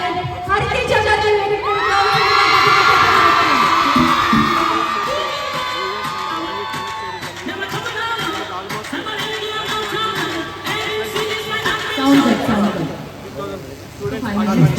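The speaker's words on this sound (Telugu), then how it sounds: "So గట్టిగా చప్పట్లు కొట్టు" Loud crowd at a KL University fest cheering, whooping and clapping, with excited shouts rising and falling over a long stretch while voices and an announcer talk through the noise.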